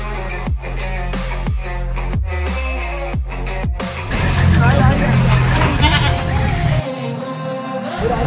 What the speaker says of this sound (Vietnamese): Đang xếp bỏ những cái con dê cho nó an toàn khi đi xe nha.